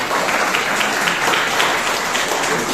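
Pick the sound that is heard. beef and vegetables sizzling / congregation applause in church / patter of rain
congregation applause in church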